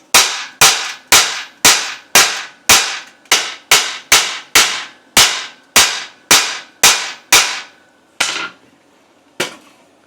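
A planishing hammer strikes a steel Honda CX500 fuel tank against a dolly, ringing metallic blows landing close and loud in a steady rhythm of about sixteen hits, the last two spaced further apart.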